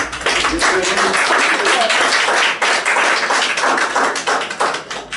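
Church congregation applauding at a Sunday service, a dense, loud burst of many hands clapping that runs steadily for several seconds and then thins out near the end.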